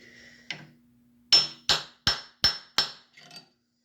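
Hammer blows drive a rear oil seal into a Triumph TR6: five sharp, close metallic strikes in a quick even rhythm, each ringing briefly, followed by a lighter tap.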